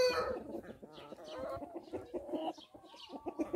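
Xin Xin Dian chickens, a green-egg-laying breed, cluck and chatter in short irregular bursts, close by and fairly quiet, with no talk.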